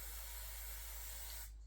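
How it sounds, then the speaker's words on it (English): Steady close aerosol hiss from a spray can coating a model railway bramble, one continuous burst that cuts off abruptly near the end. "I'm just gonna quickly spray this here"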